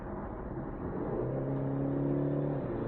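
A BMW 430i Coupe accelerates hard, its engine note climbing steadily in pitch as the revs build, loud and continuous from inside the cabin with no talking.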